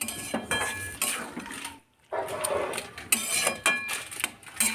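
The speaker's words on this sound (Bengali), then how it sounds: "এখন জলটা দিয়ে ভালো করে মিশিয়ে নিচ্ছি।" A spoon clinks and scrapes against a bowl while stirring mustard paste into water, in close, irregular bursts of metallic taps and swishes, broken by a brief quiet gap before the mixing resumes.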